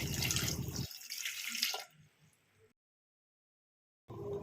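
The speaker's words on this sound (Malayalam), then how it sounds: "നൂറ്റമ്പത് ഗ്രാം ശർക്കര എടുത്തിട്ടുണ്ട് അതിലേക്ക് ഒന്നര കപ്പ് വെള്ളം ഒഴിച്ച് ഇതൊന്ന് ഉരുക്കിയെടുക്കാം" Water pours briskly into a pot of jaggery for melting, a loud gushing splash for about a second, then fading trickles and quiet.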